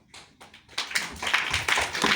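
An audience at a Lucknow business event starts with a few scattered claps, then swells into full, close applause from the crowd.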